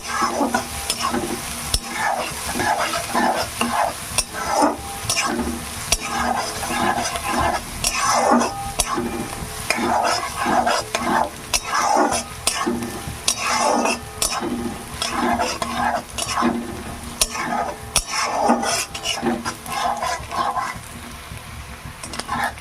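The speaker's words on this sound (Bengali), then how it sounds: "পেঁয়াজ আর ডালটাকে খুব ভালো করে একটু ভেজে নিতে হবে" Onion and masoor lentils frying in oil, with a loud, close, continuous sizzle and repeated rhythmic scraping of a spatula stirring the pan, and no talking.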